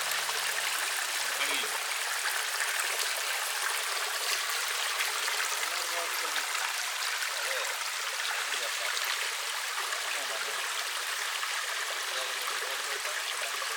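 A calm stream flowing through a forest, a steady close rushing and trickling of water throughout, with a few faint voices in the background.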